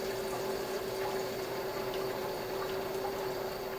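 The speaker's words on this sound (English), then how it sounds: "set the proportioner to deliver the recommended dilution of neutral cleaner per gallon of cool water." Steady rushing flow of water from a proportioner dispensing diluted neutral floor cleaner, a constant close hiss with a faint tonal hum running underneath and no breaks.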